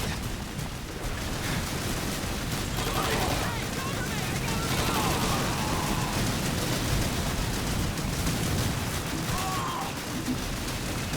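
Sustained machine gun fire in Call of Duty 2 during the Pointe du Hoc battle, a dense continuous roar of overlapping bursts and distant shots, loud throughout, with someone talking over it.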